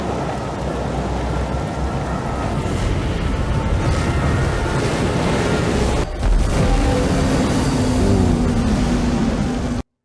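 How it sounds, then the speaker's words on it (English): Heavy storm waves pound an island in the film The Lighthouse, a loud, continuous roar of surf and wind-driven rain with a deep surge near the middle and a crashing swell toward the end. "These waves are coming onto the island now."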